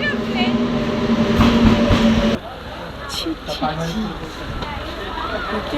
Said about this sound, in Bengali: গাইস আমাদের ট্রেন আসছে